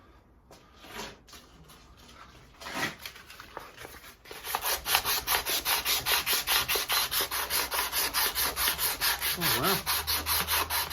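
Cloth-backed Oakley Superflex abrasive rubs over a cheap steel hammer being refinished, settling into a steady, close rhythmic scrubbing of rapid back-and-forth strokes after a few scattered scrapes; a brief exclamation is heard.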